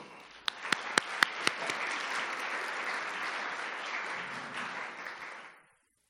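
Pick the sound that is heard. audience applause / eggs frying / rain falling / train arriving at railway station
audience applause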